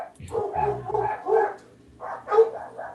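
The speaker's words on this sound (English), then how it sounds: "I have no idea why my dogs are upstairs going absolutely nutso." Several dogs barking upstairs in a house, a rapid run of loud, excited barks and yips in two bursts, fairly close and without talk.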